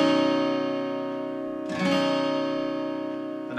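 A guitar chord rings out with a long sustain, followed by a second strum partway through, close and clear with no talking.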